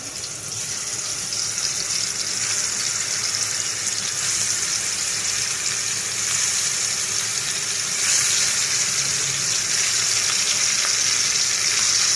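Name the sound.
katla fish frying in hot oil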